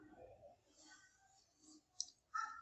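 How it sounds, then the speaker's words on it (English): Laptop keyboard keys pressed while activating the numeric keypad with a function-key combination, heard as a few faint, sharp clicks near the end over quiet room noise. "So press Fn and F11 on your keyboard."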